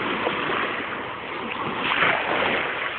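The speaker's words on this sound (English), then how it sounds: "They're lapping on the shore. Just lapping on the shore." Very gentle ocean waves lap at the shore on a calm day, a soft continuous wash of water with faint swells rising and falling, heard alone without voices.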